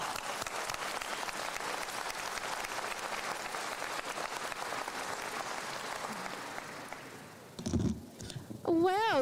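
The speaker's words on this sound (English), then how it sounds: "Please join me in giving a warm round of applause to our superintendent" Sustained audience applause at a graduation ceremony, a dense, steady wash of many hands clapping for several seconds, then fading as a voice begins speaking over a microphone near the end.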